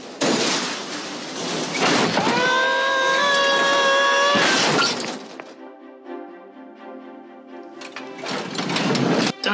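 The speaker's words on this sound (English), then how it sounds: "That was the sound of a tool chest falling down the stairs." A tool chest tumbles down a staircase in a Home Alone movie scene, with loud crashing and clattering bursts, a sustained ringing tone, then quieter rattling before another loud crash.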